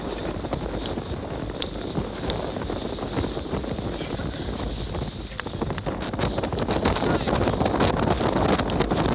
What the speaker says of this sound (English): it now took four climbers to hold the tent down in the gusting wind while it was being packed